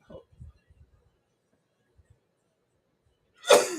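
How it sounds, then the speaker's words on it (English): A single loud, abrupt sneeze bursts out close by after a few faint rustles and a quiet intake of breath. "I got to sneeze"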